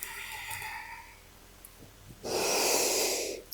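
Steady breathy exhale during a yoga forward fold in a vinyasa flow class, a soft hiss that swells for about a second near the end, heard alone without talk.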